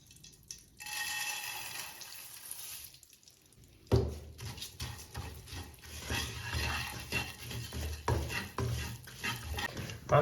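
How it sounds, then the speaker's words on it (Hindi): Melon seeds stirring and frying in a tablespoon of ghee in a pan, a steady close sizzle with a stirring rattle and scraping that gets louder and busier partway through, no talking. "1 टेबल स्पून हमने घी लिया है और इसमें अब हम ये फ्राई कर लेंगे खरबूजे के"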